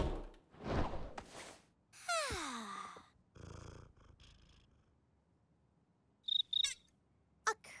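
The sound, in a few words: cricket chirping indoors at night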